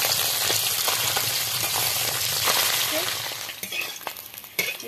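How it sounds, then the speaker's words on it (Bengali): Tengra river fish frying in a pan over low heat, a loud continuous close sizzle with occasional scrapes and light clinks as the fish are turned, no talking. "মাছগুলো ভেজে নেবো এবার।"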